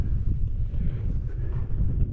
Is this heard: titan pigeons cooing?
no